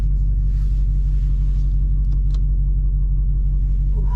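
A Dodge SRT Hellcat muscle car idles with a deep, loud, continuous V8 rumble heard up close from inside, steady and throbbing with no revving.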